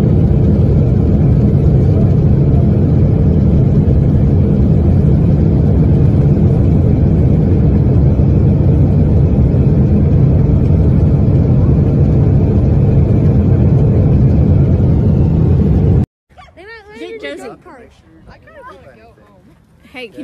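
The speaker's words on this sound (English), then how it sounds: "I saw the plane engines sputter, and then I saw things fly out the back." A Boeing 777 turbine engine failing and sputtering, heard from the ground as a loud continuous low rumble for about sixteen seconds, then cut off, followed by a few people speaking nearby.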